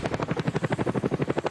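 A helicopter's rotor thuds in a fast, steady, pulsing rhythm, loud and close, with no other sound over it.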